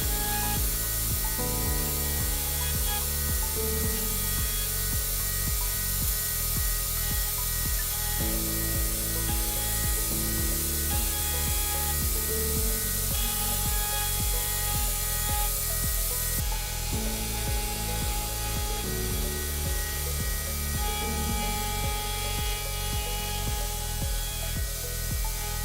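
A Hammer HNC 47.82 CNC gantry router mills a jazz bass guitar head plate with an 8 mm finishing cutter: continuous whining motor tones shifting pitch in steps over a steady background hiss.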